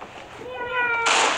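A voice imitates a cat meowing, a short rising-falling meow near the microphone, with background noise from a livestreamed Critical Ops mobile shooter game.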